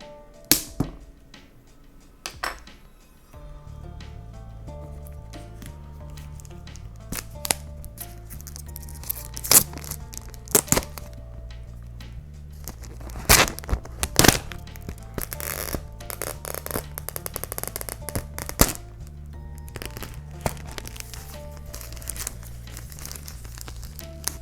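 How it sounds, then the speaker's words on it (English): A screwdriver slices open the plastic-wrapped box of Beats Solo 3 headphones, producing close, loud crinkling and tearing of film with sharp rips and rustles that build into dense crackling, and no voices. "we can just kind of slice the top."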